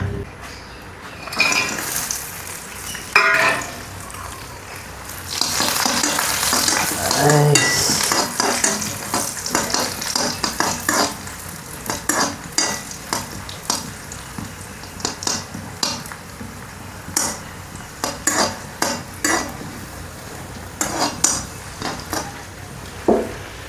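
Ghee hits a hot pan for Kerala-style beef kurma, a burst of sizzling followed by repeated metal spatula scrapes and clinks against the pan in an uneven rhythm, close and fairly loud with no speech.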